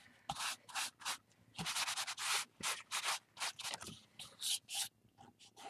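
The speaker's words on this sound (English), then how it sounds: "just be careful and sandpaper it down" Sandpaper rubs spackle down on a painting in quick, close bursts of gritty scraping, an irregular back-and-forth rhythm with short pauses between strokes.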